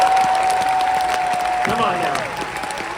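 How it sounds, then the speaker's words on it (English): An audience claps steadily through a motivational preaching event, with a voice calling out over the dense applause and a sustained tone beneath, the clapping thinning slightly toward the end. "You should clap your hands."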